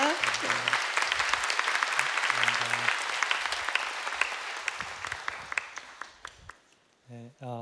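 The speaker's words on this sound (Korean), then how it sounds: "큰 박수로 환영해 주시기" A church congregation applauds as the pastor comes forward at a Sunday service, dense clapping that fades after about six seconds, followed by a brief musical tone at the end.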